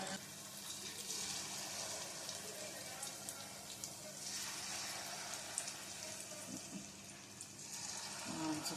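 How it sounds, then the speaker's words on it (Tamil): Wheat bonda batter sizzles in a kadai of hot oil, a steady soft hiss and crackle of frying that stays faint and even throughout. "எண்ணெய் காஞ்சிருச்சு. நம்ம இப்போ போண்டா போடுவோம்."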